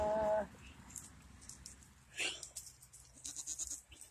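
Several young doeling goats bleating close by, short high cries coming in bursts over a quiet outdoor background, with a brief louder call at the start.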